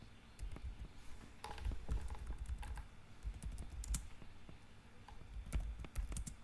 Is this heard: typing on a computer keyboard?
yes